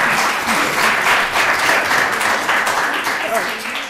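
An audience breaks into sustained applause for a teacher at a formal event, a dense, fairly loud wash of clapping that holds steady for several seconds with no voices over it.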